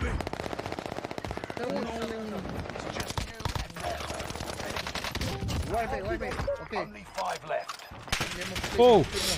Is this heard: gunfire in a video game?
yes